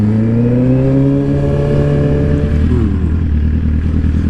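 An adventure motorcycle accelerating hard off the line, its loud engine note climbing steadily in pitch through the gears and close up, with no voices over it.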